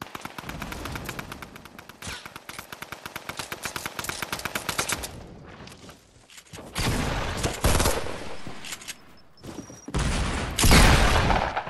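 Rapid, loud sniper rifle gunfire bursts in a video game, a long stream of closely spaced shots followed by a few heavier blasts, with no talking.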